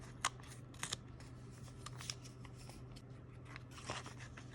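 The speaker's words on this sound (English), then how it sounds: "just going to cut this open" Scissors cut open a package for a junk journal: several crisp snips and crinkly plastic rustles, close and fairly quiet over a low steady hum.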